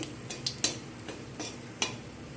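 Nigella seeds and a dried red chilli being stirred in a little hot oil, with soft scraping and occasional sharp clinks of a utensil against the pan over a faint, quiet background hiss.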